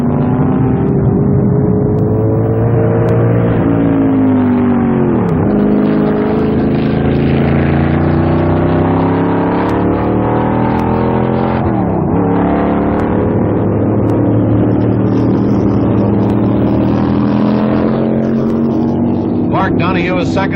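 Roaring 1967 McLaren Chevrolet Can-Am race car V8 engines on a last lap, a loud continuous drone with rising and falling pitch as cars pass and shift, running under steady commentary.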